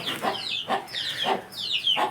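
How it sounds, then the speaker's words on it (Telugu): Hens in a poultry shed cluck repeatedly in close, rhythmic bursts, about four calls in quick succession with no talk over them. "మన షెడ్లో కోళ్ళని చూపిస్తాను చూడండి"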